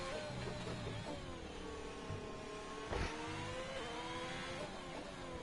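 Onboard Ferrari engine in a racing video game, a steady high-revving whine with rising and falling gear tones and a brief louder burst midway, held close and continuous throughout.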